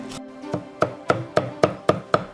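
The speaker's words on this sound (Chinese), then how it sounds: "需要將魚肉剁碎後反覆揉打" A cleaver chops fish meat on a board for fish cakes in steady, evenly spaced heavy thuds, about seven strikes, close and loud with no talking.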